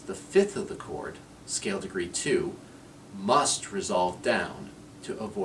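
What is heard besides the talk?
No everyday noise stands out behind the speech.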